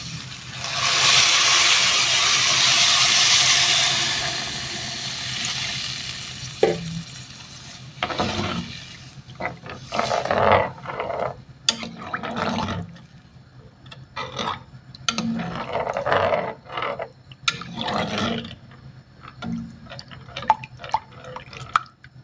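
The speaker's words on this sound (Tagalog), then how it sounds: "lagyan na natin ng tubig guys." Water pours into a pot of arroz caldo seasoned with curry powder and black pepper, a rushing splash at first followed by scattered stirring, scraping and clinking close by.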